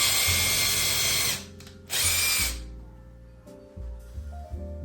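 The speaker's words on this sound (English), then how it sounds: "as you're drilling through, all of the drywall is gonna get caught in here" A power drill bores through drywall in two loud, whining bursts separated by a short pause, followed by quieter mechanical clicks and handling noises.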